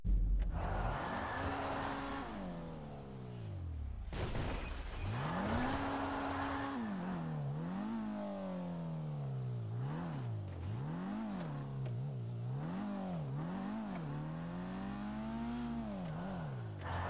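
Tires screech and skid repeatedly in a car drifting through GTA 5 Online with a Toyota, the engine revving and wavering between long squealing slides, loud and close with no voices.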